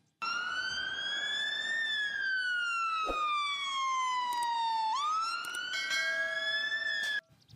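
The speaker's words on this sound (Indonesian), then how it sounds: "mobil pemadam kebakaran" An electronic toy fire truck siren wailing close by, a clean tone sliding up and down in long sweeps, then cutting off abruptly.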